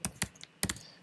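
Keys clatter on a computer keyboard in three quick clusters of clicks, close and crisp with short silent gaps between bursts, no talk over them.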